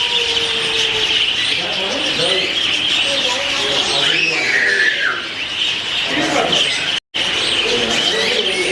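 Birds at the Natural Bridge Wildlife Ranch safari chirp and coo, including dove-like calls, close and lively, over a constant outdoor hum with a passing car.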